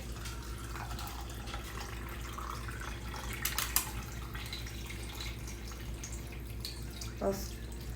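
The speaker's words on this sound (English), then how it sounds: "Okay, now I'm going to add I'll just add some plain water." Plain water poured into a cooking pot in a home kitchen, a continuous splashing, trickling fill with a few louder clunks, moderately near.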